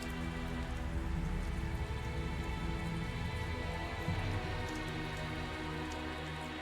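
Steady rain falls in the video game Tales of Zestiria, a dense and even patter that runs unbroken at a moderate level with no voices over it.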